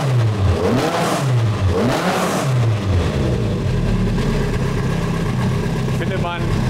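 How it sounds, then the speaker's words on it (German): Alfa Romeo GTA racing engine with twin Weber carburetors revving hard, several rising and falling blips close by, then settling into a rough idle as someone talks over it. "Gibt der Doppelweber-Vergaser, die machen nur so dieses Ansauggeräusch und dann dieses Knallen so ein bisschen in der Ansaugung"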